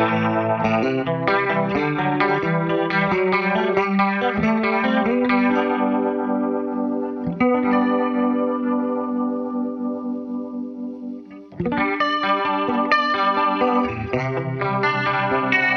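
Electric guitar through a Wampler Terraform multi-modulation pedal with slow tweeter and fast woofer rotary speeds, dense strummed chords pulsing and swirling, letting one chord decay before strumming resumes, loud and close with no talking.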